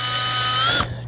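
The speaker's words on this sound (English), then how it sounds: "we just want to drill enough to open the hole" A power drill opens a hole on a Mazda 2.3L engine intake tumble valve part, running with a steady high whine, then winding down and stopping near the end.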